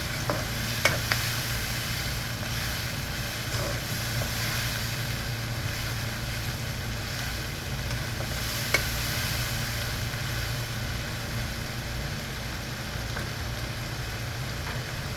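Onions fry in a pan with a steady sizzle while being stirred, with occasional scraping knocks of the utensil against the pan.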